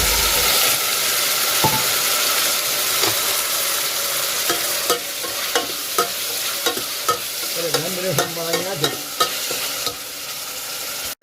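Curry leaves and tomato sauté in a hot pan with a steady, close sizzle, broken by a run of scraping, knocking stirs from about halfway through. No one speaks.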